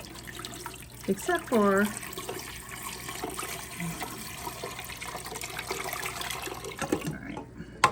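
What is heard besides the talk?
water poured into canning pot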